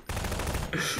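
Rapid automatic gunfire in a Prop Hunt video game match, a close, loud continuous burst that fills the moment with no gaps.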